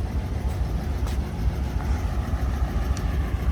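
A tourist boat engine idles with a low, steady, moderately loud rumble that holds an even drone throughout.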